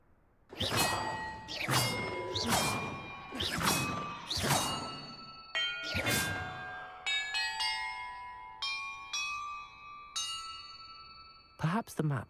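Bells of different pitches struck one after another in a Hogwarts Legacy puzzle, five ringing clangs in steady rhythm, then a run of higher chimes with long, bright decays, loud and close with no talk.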